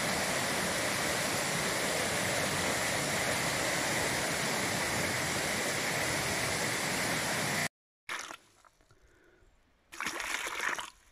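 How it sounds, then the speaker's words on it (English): A 10 metre waterfall at Maalan in North Queensland, Australia roars as a steady, loud broadband rush for most of the time, then cuts off abruptly and returns more faintly with a brief louder burst near the end. "And a nice 10 meter waterfall below this."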